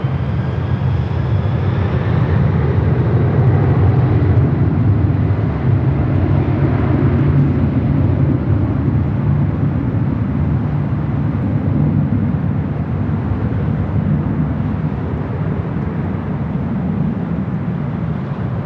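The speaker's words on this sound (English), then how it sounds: "951 taking off to JFK on the 767-300ER" A Delta Airlines Boeing 767-300ER takes off from Los Angeles International Airport with a loud, sustained jet engine roar and deep rumble, steady in strength and slowly easing as the plane moves off, with no talk.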